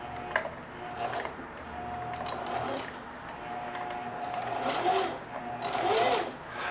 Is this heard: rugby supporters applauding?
no